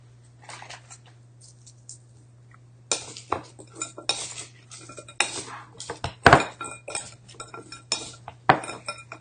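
Sesame ginger edamame tossed with sauce in a bowl, quiet at first, then a busy run of clinks, scrapes and rattling pods against the bowl with a few sharp knocks, close and without speech.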